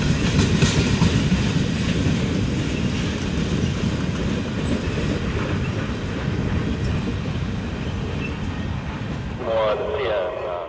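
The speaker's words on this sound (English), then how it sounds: "you can still catch a few trains on Canadian National Railway's two subdivisions which run through Durand" A Canadian National freight train rolls past on its rails through Durand, a loud, continuous rumble with rattling wagons and clattering wheels, close by and steady throughout, fading slightly near the end.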